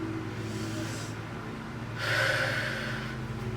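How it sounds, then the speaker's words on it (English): Deep inhale and exhale during a beginner Pilates workout on an AeroPilates reformer, a soft airy breath followed by a louder rushing exhale over a low steady hum. "Let's take a deep breath."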